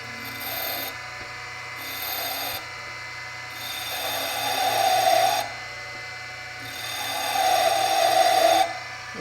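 A power drill with a dull bit squeals against a broken screw it is trying to extract, running in about four separate bursts of high, grinding whine, the last two longer and louder, with short quiet gaps between them.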